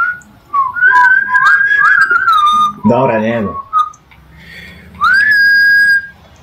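Two people whistle a tune in long, loud, wavering phrases. A short spoken remark interrupts midway, and the whistling then resumes.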